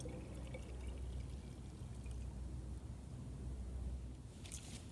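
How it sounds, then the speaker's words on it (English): Hot water poured steadily into a Nalgene bottle, a close gurgling stream that runs for several seconds before a brief clink near the end. "you can pour that water right back in"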